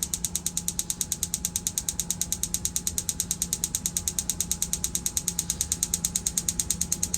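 An RV stove burner igniter clicking in a fast, steady ticking train for the whole span, each click evenly spaced and sharp, with a faint hum underneath and no talking.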